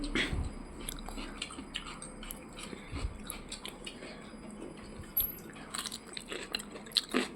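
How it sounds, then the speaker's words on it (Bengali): A child chews paratha and ghugni at breakfast, soft wet mouth sounds and small crunches coming in irregular bursts, faint and close, with quiet background noise. "মিঠি এতক্ষণ এইটুকু পরোটা কেটে খেয়েছে আর ঘুগনি খাচ্ছে"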